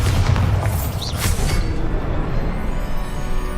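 Bombarda explosion spell cast in Hogwarts Legacy, a loud deep booming blast with a rumbling low end that sustains steadily across the whole stretch, with a brief brighter crackle near the start.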